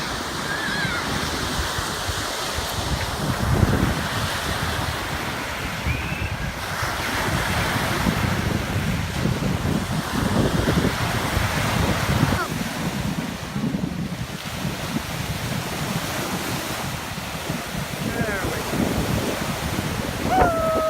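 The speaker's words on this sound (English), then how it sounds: "normally it's not 60 degrees and crazy windy" Strong, gusty wind roars across the microphone while waves wash continuously on a lake on a cold day, forming a dense, steady rush with no clear pauses.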